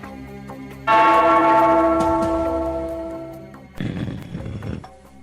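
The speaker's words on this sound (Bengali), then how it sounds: "ওই ঘন্টাটা বাজাও, বাজাও।" A large bell strikes once with a loud, ringing clang that slowly fades, then a second, duller metallic hit follows near the end.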